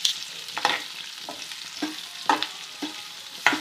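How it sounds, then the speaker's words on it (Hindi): Green chillies frying with spices in a pan give a soft continuous sizzle broken by several sharp spatula scrapes and taps at an uneven pace, close and alone. "हल्का हल्का सा फ्राई करते हैं।"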